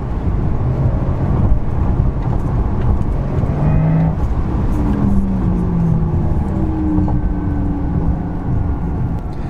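A Porsche Taycan Turbo S electric car accelerates hard, with a loud, steady roar of road and wind noise and rising, whining electric motor tones sweeping upward across the run.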